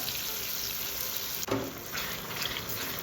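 Tomatoes and onions frying in a pan for a spicy broad-bean curry: a steady, close hiss of sizzling with one brief knock partway through.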